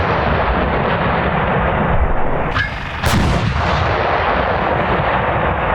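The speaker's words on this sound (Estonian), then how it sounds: "ajateenijate vanemad lubatakse vaatama, kuidas nende võsukesed suurte suurtükkidega K9 pauku teevad" K9 self-propelled howitzer fires during conscript artillery training on a firing range: one huge blast, very loud and close, over a dense wall of rumbling background noise, with no voices.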